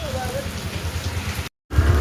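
Rain falls steadily outdoors, a close, even hiss of drops on surfaces with a low rumble beneath. The sound cuts out for a moment and then returns, and a faint voice can be heard briefly.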